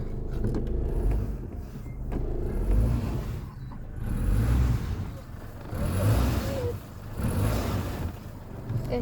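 Idling engine of a Holden Apollo / Toyota Camry, started for the first time in six months, shifted into drive with a steady low rumble that swells in slow waves, close by, with a voice speaking over it.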